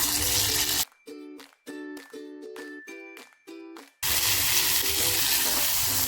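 Homemade masala hits hot oil already fried with garlic and sizzles loudly and steadily, broken by a few seconds of clinking and stirring in the pan before the hiss resumes at full strength, with no talking.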